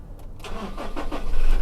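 A 2017 Toyota Revo 2.4G four-door pickup with automatic transmission cranks briefly and its engine catches, settling into a close, steady idle rumble.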